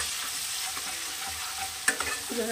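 Sour yogurt sizzles in a pan for a pointed gourd curry, a soft steady hiss close by with a couple of light clicks and scrapes toward the end.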